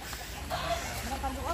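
A chicken clucks in short, soft bursts on a farm, mixed with a steady background hum and outdoor noise.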